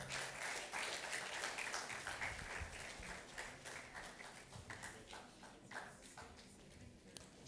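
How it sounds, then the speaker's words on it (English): An audience claps steadily at a university SDGs summit as a guest comes forward, a dense sustained patter of hands that eases slightly toward the end, with a faint low voice underneath. "Don't stop clapping, come on."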